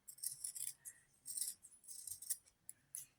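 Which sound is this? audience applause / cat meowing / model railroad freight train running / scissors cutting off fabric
scissors cutting off fabric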